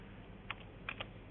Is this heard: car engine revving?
no